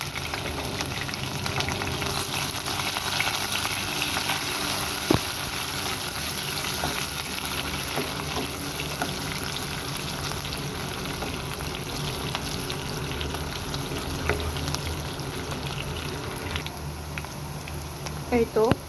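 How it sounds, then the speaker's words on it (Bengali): Chopped onion and garlic sizzle steadily in hot oil for a sweet pumpkin bhaji, a dense, even crackle that runs throughout with a person talking over it. "এই পর্যায়ে আমি দিয়ে দিব পেঁয়াজ কুচি আর রসুন কুচি।"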